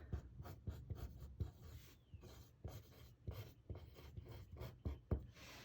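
A pencil stroking across paper as it draws a line, a soft, close rhythm of short scratchy rubs and light taps, quiet and with nothing else heard.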